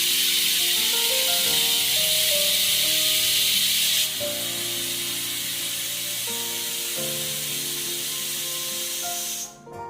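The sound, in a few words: pressure cooker whistle releasing steam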